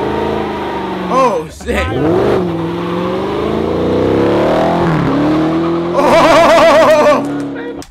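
A Dodge Challenger Hellcat Redeye engine revs hard and its tires skid and squeal, heard under loud, excited talk from nearby voices, with a burst of screeching near the end.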